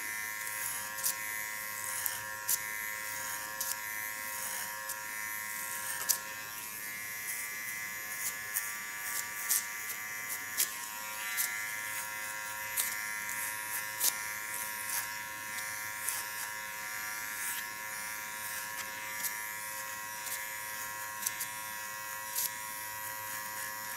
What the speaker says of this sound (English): Don't hurry you up at no time because it feels ultra relaxed working with this clipper.